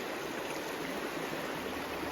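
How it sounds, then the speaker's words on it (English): Small stream of water dribbling out from behind trees beside a rolling river, a steady soft rushing trickle heard at a distance, alone without voices. "There's a little water that goes behind those trees there, and it dribbles out right over there."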